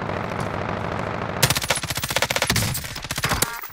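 Automatic weapon fire in Call of Duty: Modern Warfare, with loud, rapid bursts of evenly spaced shots starting abruptly after a stretch of quieter background noise, briefly pausing and then resuming close by.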